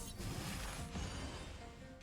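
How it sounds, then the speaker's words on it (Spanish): A loud, dense explosion in a space combat video game, a broad crash that fills the whole two seconds with rumbling debris and a brief flare near the middle. "Qué bonita explosión"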